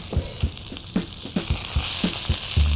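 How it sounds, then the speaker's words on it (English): Fish sears in a hot pan with a steady bright sizzle, punctuated by a series of soft, evenly spaced knocks and taps close by; no one speaks. "fish is nice and seared"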